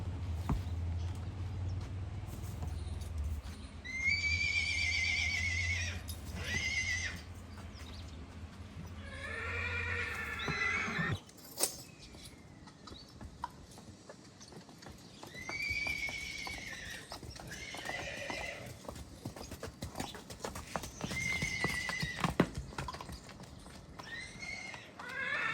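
Several mares neigh in loud, shrill whinnies, repeated through the scene, while hooves clop irregularly nearby after their bathing. A low rumble sits underneath at the start.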